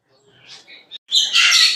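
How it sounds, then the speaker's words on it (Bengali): Caged mynah birds at a bird market chirping and twittering close by, a few thin calls followed by a burst of busy, overlapping high chatter. "আদিত্য ভাই এখন দর্শকরা যে পাখিগুলো দেখেন"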